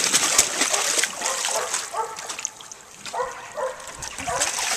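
A dog splashes and paddles in water, with sloshing and spattering bursts coming and going at close range while people talk over it.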